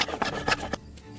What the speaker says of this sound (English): Now, planing a much larger structural beam.